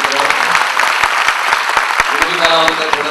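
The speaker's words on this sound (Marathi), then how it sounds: "जोरदार टाळ्या झाल्या पाहिजे." An audience at a live stage event breaks into loud, sustained applause, dense rapid hand claps with sharp individual slaps standing out close by, continuing throughout.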